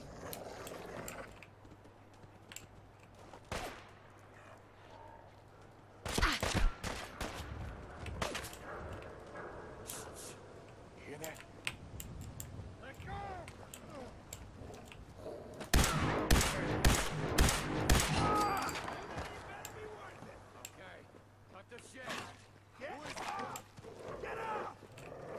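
Bursts of rapid gunfire crackle through a Fallout 4 firefight, loud clustered volleys separated by quieter stretches of ambient game sound.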